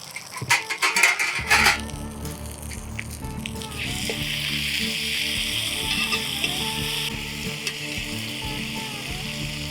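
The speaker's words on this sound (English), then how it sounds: "Let's hear the little sizzle first." Chicken sizzles in a hot cast iron pizza pan on a Blackstone griddle, a loud steady frying hiss that starts with a few sharp pops and clatters, then settles into a continuous crackle up close.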